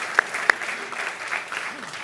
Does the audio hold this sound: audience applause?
yes